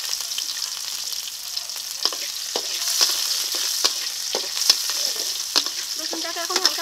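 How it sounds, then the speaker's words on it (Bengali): Crushed garlic and whole cumin frying in oil for a taro stolon and puti fish curry, a close, even sizzle punctuated by regular light taps and scrapes of stirring, with no speech. "রসুনটাকে এখন হালকা ভেজে নেব"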